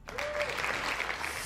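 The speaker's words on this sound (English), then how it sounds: "I'll give him a clap." A short burst of applause, steady clapping from a small crowd that fills the moment and holds without fading.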